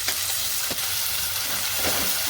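Finely chopped onion and tomato fry in a pan while being stirred, making a continuous close sizzle with a few soft scraping strokes over it.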